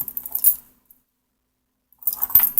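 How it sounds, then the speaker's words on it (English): A big ring of padlock keys jangles close by in two short metallic bursts, bright and clinking, separated by a second or so of near silence. "Most of my padlock collection is on that key ring."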